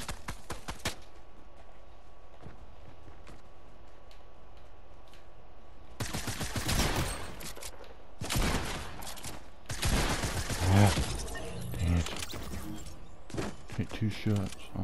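Pump shotgun blasts in the Fortnite video game, a few sharp shots at the start and then heavier bursts of gunfire and combat noise, with a voice talking over parts of it.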